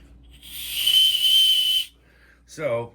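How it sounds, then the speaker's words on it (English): A single shrill blast from a small backpack safety whistle lasting over a second, close and loud, followed by a brief voiced sound. "it actually has a small whistle"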